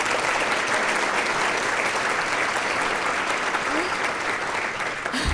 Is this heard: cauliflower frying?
no